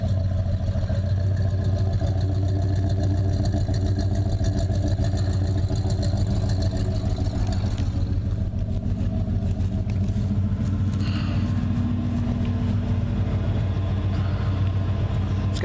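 A 1977 Ford F250 XLT pickup engine runs steadily at idle, a continuous low rumble with no talk over it, loud and close throughout.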